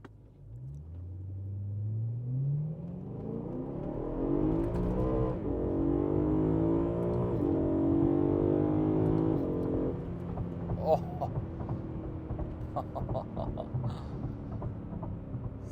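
BMW M3 with a new exhaust revving hard, the engine note climbing in rising harmonic sweeps from a low idle to a loud sustained roar, then dropping back to a rumbling idle; a person talks faintly over it.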